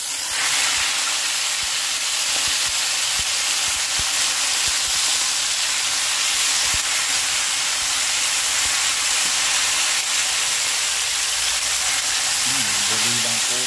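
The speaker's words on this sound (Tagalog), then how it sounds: "Lutuin na po natin yung ating talbos" Sweet potato leaves fry in a hot pan with a loud, continuous close sizzle and hiss, with occasional stirring clicks and a faint voice near the end.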